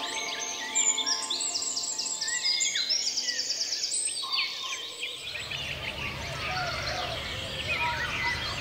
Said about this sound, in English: They fill the air with their melodic songs